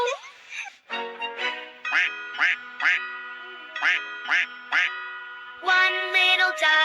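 Ducks quack in a rapid series of loud, nasal, close-up calls that come in short evenly spaced bursts, ending in a busier cluster of quacks.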